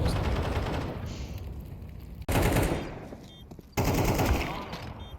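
Rapid gunfire in Counter-Strike 2, loud and dense with bursts cut by two abrupt breaks; some talk sits underneath.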